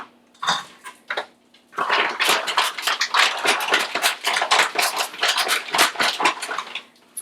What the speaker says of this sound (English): I am now going to add some bacon.